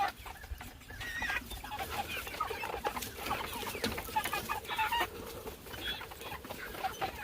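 Chickens clucking and calling repeatedly while foraging on grass outdoors, a steady busy chatter of several birds at moderate distance with no talking.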